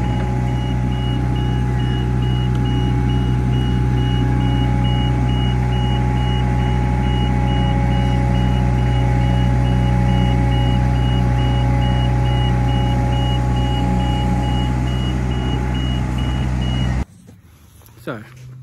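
A Nifty 210SD spider boom lift drives on a hard-access job, its steady reversing beeps pulsing over a constant loud engine drone, close, until it cuts off near the end.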